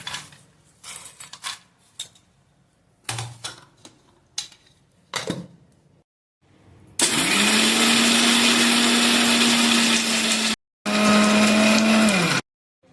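Roasted peanuts rattle as they are shaken and tipped into a mixer grinder jar, then the grinder roars loudly and steadily for a few seconds, stops briefly, and runs again in a second loud burst.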